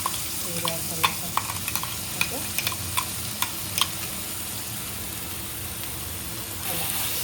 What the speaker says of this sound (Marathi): आता मस्त असा टोमॅटो पण चांगल्या पद्धतीने मस्त मिक्स करायचं आहे आपल्याला.